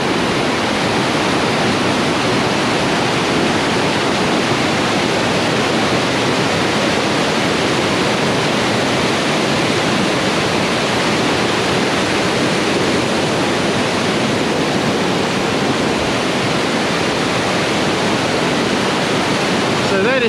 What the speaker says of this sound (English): So that is the Candos Weir, which is basically the top of Dunn Swamp.